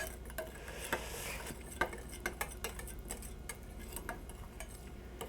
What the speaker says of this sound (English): Okay, stir that around.